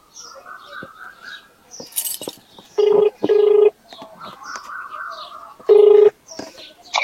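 Telephone keypad dialing tones, three steady beeps standing out clearly over light background chatter and birds chirping, as a villager tries calling a woman whose house is found locked.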